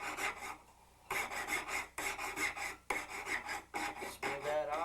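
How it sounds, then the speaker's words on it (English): A hand file rasps across a gold ring held against a wooden bench pin, in four bursts of quick back-and-forth strokes separated by short pauses, close and clear with no talk. "File to the top."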